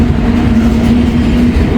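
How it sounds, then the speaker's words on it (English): A long freight train carrying containers rumbles past close by, a loud continuous roar with a low steady hum and faint rhythmic clatter from the wagons. "This could be a long train."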